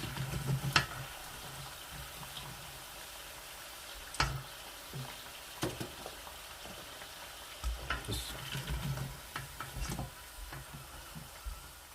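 Chicken pieces frying in oil for Korean spicy chicken: a constant fine sizzle throughout, broken by a few sharp clicks and scraping stirs, close and alone with no talk.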